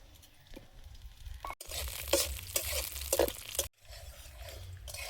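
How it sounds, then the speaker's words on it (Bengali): Coconut pieces fry in hot oil in a kadai, a steady crackling sizzle broken by stirring scrapes and two brief pauses, close and fairly loud with no talking. "তেলটা গরম হয়েছে, নারকেলটা দিয়ে দেব।"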